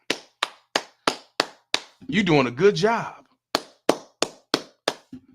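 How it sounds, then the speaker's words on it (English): Sharp, evenly spaced hand claps from a single person, a run of six, a pause while someone speaks, then another run of six crisp claps close to the mic. "you supposed to get a hand clap"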